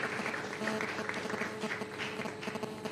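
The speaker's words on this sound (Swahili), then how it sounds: "Sasa wote tusimame na tumpigie makofi mengi sana Mheshimiwa Rais" An audience claps continuously for the President of Tanzania at an indoor formal event, a steady dense patter of many hands at moderate level with faint voices underneath.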